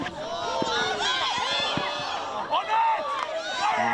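A crowd cheering from the sideline at a New Zealand Māori hockey match, with sustained, excited shouts and whoops from a distance while a commentator talks over them.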